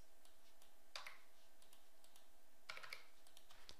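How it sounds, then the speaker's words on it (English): Keystrokes on a computer keyboard while entering room measurements, heard as two short clusters of quick, light clicks over a quiet background with no voices. "So type in the feet and inches"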